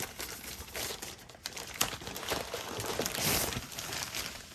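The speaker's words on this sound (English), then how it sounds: "So now let's unwrap the actual router, measure it, and we're done." Plastic packaging crinkling and rustling as a TP-Link Archer BE550 tri-band WiFi 7 router is unwrapped, with continuous close crackling and a few sharper tearing bursts, no talk.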